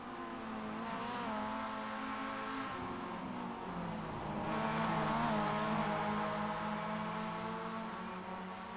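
Several Spec Miata race cars battling closely through a series of bends on a road course, overlapping engine drones holding and climbing in pitch together, loud and continuous, with no voices.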